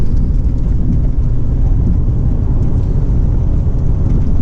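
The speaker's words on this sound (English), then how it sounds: "the last free drive through the tunnel" Car driving through the Seattle road tunnel, with a loud, steady low rumble of engine and road noise that stays constant the whole time and carries no talk.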